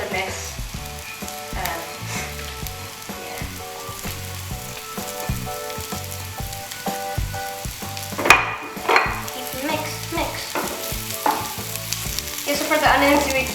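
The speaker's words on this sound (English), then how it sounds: "we're going to be adding a bit of garlic to the mix" Half an onion and two cloves of garlic frying in a pan for carbonara, a loud continuous sizzle with scraping stirs and a few sharper crackles, mixed over a rhythmic low background beat.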